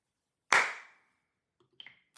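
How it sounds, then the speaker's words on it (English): A single sharp hand clap recorded into a sampler app, loud and close with a short decaying tail, followed after about a second by faint handling noises. "I'm gonna try to record a clapping sound like that."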